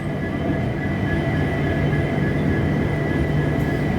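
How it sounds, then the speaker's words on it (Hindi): The Antyodaya Express rolls in at a station with a steady, loud rumble and rail hum, a continuous low drone that holds without a break. "यहाँ पर अभी आई है अंत्योदय एक्सप्रेस।"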